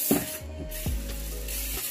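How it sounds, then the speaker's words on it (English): Close, short bursts of a spray bottle hissing as a tub is sprayed down, with a low hum running underneath. "I'm spraying down her tub."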